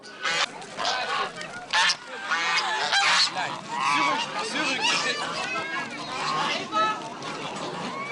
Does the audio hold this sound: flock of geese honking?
yes